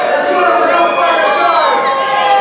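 A loud, dense crowd at a TWF wrestling event roars and jeers steadily for a couple of seconds without a break.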